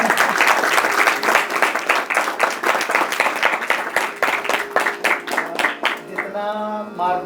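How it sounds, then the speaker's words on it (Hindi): A hall audience at a talk on Indian music claps loudly, a dense burst of applause that swells into rhythmic, fairly unified clapping before breaking off, with a brief voice near the end. "जोरदार तालियां।"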